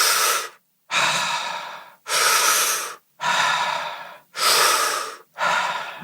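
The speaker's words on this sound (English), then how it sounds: "you can do the breathing where you breathe in and breathe out, breathe in, breathe out fully and quickly" A person does rapid, deep Wim Hof style breathing exercises, with loud, forceful breaths in and out in a steady rhythm and short pauses between them, close to the microphone and with no talking.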